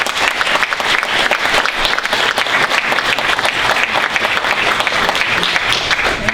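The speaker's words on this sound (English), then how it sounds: "Give a round of applause." An audience at a panel talk on public wealth and climate gives a loud, sustained round of applause, dense overlapping claps filling the hall continuously with no speech.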